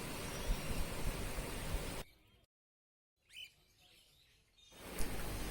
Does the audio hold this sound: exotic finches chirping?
yes